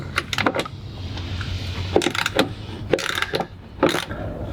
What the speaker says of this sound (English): in order to do that, we need to unbolt all of these bolts here